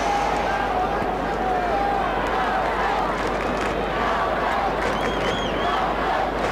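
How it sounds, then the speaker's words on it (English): Carlton AFL fans roar and cheer throughout a packed stadium during a 2007 match against St Kilda, a loud continuous crowd wash with rising shouts and no break. "now the crowd becomes a factor and their spirit still lives"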